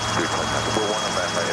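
A steady, loud Robinson R22 helicopter drone during a training flight fills the background, its rotor chop blending with engine whine, with a voice faintly underneath.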